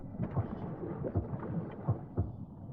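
Rolling thunder and rain fill a stormy scene in the video game Thalassa: Edge of the Abyss, with low rumbles and a few heavier thumps under a steady wash of rain.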